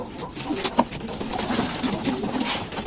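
Racing pigeons coo softly and repeatedly at close range, with light rustling and faint background noise throughout.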